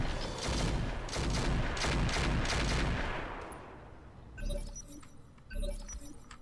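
Mech weapons fire in Roguetech, a dense loud barrage of rapid shots and crashing impacts for about three seconds, fading out, then two separate heavier booms later in a quieter stretch.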